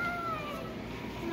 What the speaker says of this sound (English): You see the kitty cat?